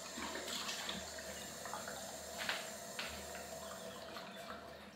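Water running steadily from a push-button sink tap inside a van, a soft continuous splashing hiss, faint and close, with a few light knocks over it and no talking.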